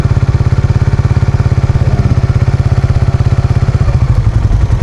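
A Suzuki Raider Fi motorcycle engine runs steadily in a fast, regular thumping pulse with a little throttle added, loud and close, the beat shifting slightly near the end; no one speaks.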